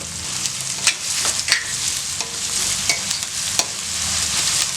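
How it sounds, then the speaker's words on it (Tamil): Chopped small onions sizzling and being stirred in a pan for rava upma, a steady close frying hiss with scraping spoon strokes now and then. "வெங்காயம் ரொம்ப வதக்கணும்னு அவசியம் கிடையாது இந்த அளவுக்கு வதக்குனீங்கனாவே போதும்"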